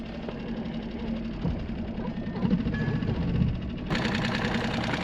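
A fishing skiff's engine runs in gear off Central California, a steady low drone that holds throughout and grows a little brighter toward the end.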